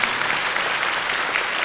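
An indoor audience at a 1997 Korean World Vision board chair inauguration ceremony claps loudly and evenly for the World Vision International vice president, a short burst of dense applause with no speech.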